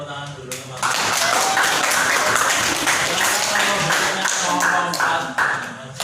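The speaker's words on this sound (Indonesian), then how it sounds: "Sekarang tepuk tangan dulu teman." Classroom applause from a group of students during a teacher's lesson on saving electricity, a dense stretch of clapping over about five seconds, mixed with some voices and taps, fairly loud and close.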